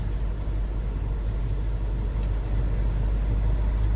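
A BMW engine idling with VANOS timing, a steady low rumble that stays even and continuous throughout, close and unbroken, with no voices over it.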